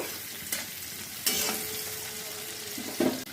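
Onions and green chilies fry with lightly browned potatoes in a pan: a soft, steady sizzle broken by a few sharp stirring scrapes, fairly quiet and near, without speech.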